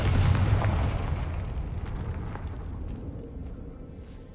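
Confringo spell explosion in the Hogwarts Legacy game, set in a decayed catacomb; a loud, deep blast hits at once and then slowly rumbles and fades away across a few seconds.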